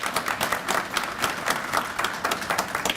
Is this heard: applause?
yes